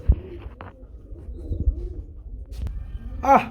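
Lahore, Sooking, Rajgolla and local pigeons cooing in a loft, soft repeated low coos spread across the moment with a few sharper calls and small knocks, close by and without speech.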